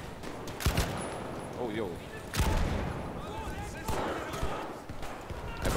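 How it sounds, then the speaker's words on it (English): Sharp gunshots ring out amid the ambient battle noise of a Battlefield V match, a few loud cracks spaced seconds apart, with a player talking briefly over the action. "Hey, bro, who's shooting at me right now"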